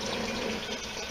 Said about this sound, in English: I'm filling up now to heat that back up for the second batch sparge